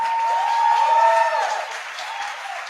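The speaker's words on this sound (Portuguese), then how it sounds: "eu quero convidar você a aplaudir ao Senhor por esse povo bonito" A church congregation applauds during a Sunday evening service, a soft, fairly brief patter of clapping under a sustained tonal hum that fades slightly toward the end.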